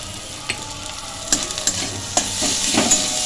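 Tomato and spice masala with turmeric, coriander and homemade cumin powder sizzles steadily while being stir-fried for fish chorchori, with a continuous frying hiss and several sharp scrape-like clinks from stirring, close and fairly loud.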